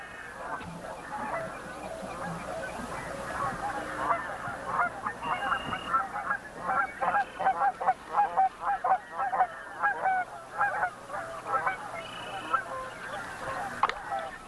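Sandhill cranes in North America calling near a nest in a wetland, a chorus of loud, honking, rattling calls repeating in bursts throughout and growing denser midway.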